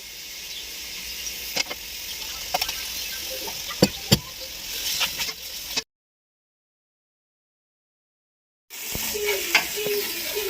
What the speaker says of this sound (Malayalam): അപ്പോൾ അതും ഈ മല്ലിയിലയും കൂടെ ഇട്ടിട്ട് കുറച്ചൊന്ന് ഫ്രൈ ആവുന്നത് പോലെ അത്ര നേരം നമ്മളൊന്ന് വഴറ്റണം